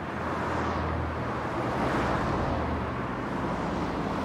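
Steady, loud road traffic roar with a constant broadband rumble, continuous and unbroken, like heavy vehicles passing nearby on a busy road.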